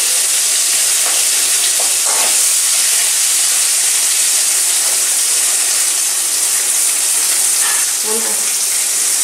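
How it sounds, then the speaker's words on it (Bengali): Mango curry broth for pabda fish bubbling in a pot, a loud continuous hiss and steamy simmer with occasional soft bubbling pops, close and steady throughout. "ঝোলটা ভালোভাবে ফুটে উঠেছে।"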